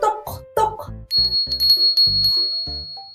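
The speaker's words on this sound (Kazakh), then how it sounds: "Иә, онда тағы бір қоңырау бар екен. Бұл көк түсті қоңырау." A blue toy bell in a children's colours-and-counting lesson rings in a bright, repeated tinkle for about a second, preceded and followed by a voice speaking.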